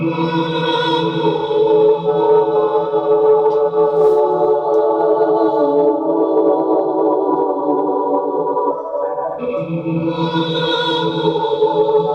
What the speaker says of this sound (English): To create a song, I layer many vocal layers so that it creates one lush soundscape.